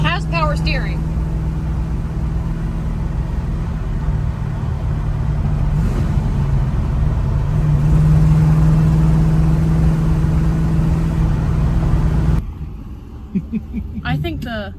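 A 1955 Chevy engine rumbles steadily while driving, a continuous mid-low drone that swells slightly partway through before cutting off near the end.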